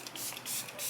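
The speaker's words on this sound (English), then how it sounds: "This is the Sephora Collection Makeup Setting Spray" Sephora Collection makeup setting spray hisses from a pump bottle in short, close bursts, two or three quick pulses of airy mist in about a second, with no talking.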